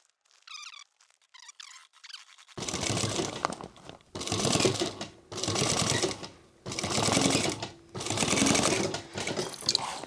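A sewing machine double-stitches webbing on a handmade sling crossbody bag, running in several rapid bursts of a few seconds each separated by short pauses, close and clear after a quiet rustle at the start.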